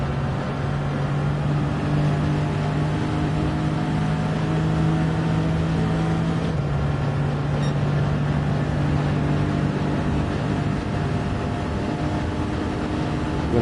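Race car engine held at full throttle in Gran Turismo 7, a six-speed machine droning steadily and loudly with a sustained tonal hum that shifts pitch slightly midway, no voices over it.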